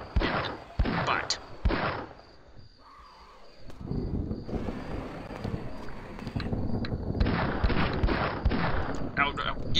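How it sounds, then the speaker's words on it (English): Video game gunfire in Castle Miner Z aimed at a dragon: bursts of sharp shots in quick clusters, loud and close, with a talking voice over parts of the action. "Shoot the dragon in the butt."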